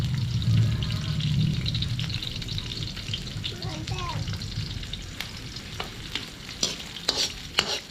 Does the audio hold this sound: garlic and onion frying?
yes